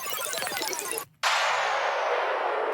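A dense synth texture cuts out abruptly, then a loud downlifter wash of electronic noise from the Vital synth sweeps through and slowly fades, with no voices.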